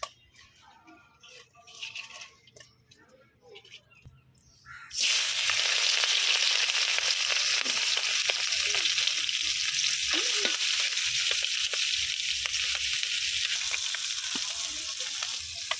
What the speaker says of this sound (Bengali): মাছগুলো আমি হালকা তেলে ভাজা নিব